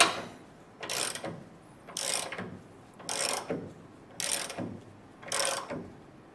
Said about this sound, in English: I just want to get it until they're snug. Without ratchet coming off the socket.